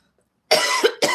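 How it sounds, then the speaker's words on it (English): Two harsh coughs in quick succession after a short silence, loud and close. "I hate when I start coughing when I'm doing my readings"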